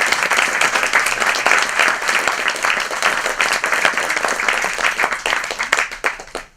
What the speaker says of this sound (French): je vais vous demander d'applaudir Michel Rod qui est ici ce soir.